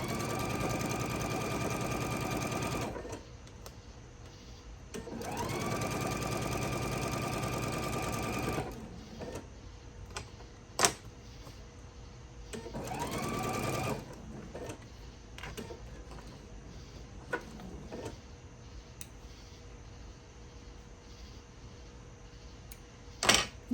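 A home sewing machine stitches a Christmas tree table runner in three steady whirring bursts, each revving up and holding, with quiet gaps and small clicks and clunks between them.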